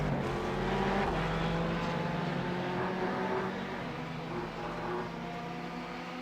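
Ferrari race cars at the Nürburgring in a racing game give a steady, loud engine roar that holds throughout and eases slightly toward the end, with no talk.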